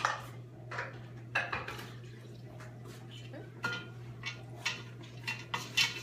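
A utensil scrapes and clinks against a bowl while ingredients for a Mississippi mud cake are stirred together, giving irregular knocks and taps over a low steady hum, fairly quiet and close.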